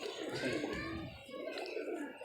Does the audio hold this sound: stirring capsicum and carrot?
no